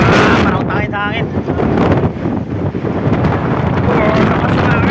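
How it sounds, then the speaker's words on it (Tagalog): Loud wind buffets the microphone in a constant roar, with brief faint tones and rumbling mixed underneath. "Oh, lakas na hangin."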